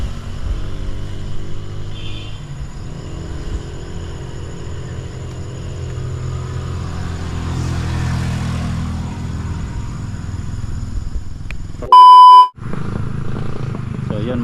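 Motorcycles roll past on a road in a long, continuous engine rumble that rises and fades as they go by, interrupted near the end by a brief loud burst of clipping.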